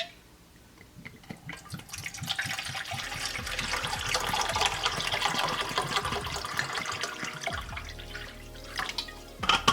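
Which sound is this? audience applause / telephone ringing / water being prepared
water being prepared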